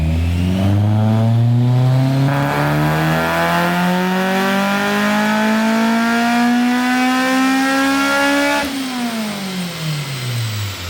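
A tuned Honda Civic EG hatchback with a K20 engine revs hard on a dyno, its loud, steady note climbing in pitch for about eight seconds before the throttle lifts and the engine winds down.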